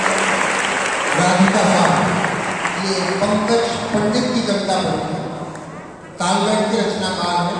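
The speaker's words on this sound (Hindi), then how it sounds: "वाह, बहुत सुंदर जोरदार तालियां हो।" Loud clapping from an audience at a Hindi poetry recital on World Hindi Day, following a poem, swelling and then holding beneath continuous talking, with a sharp jump in level near the end.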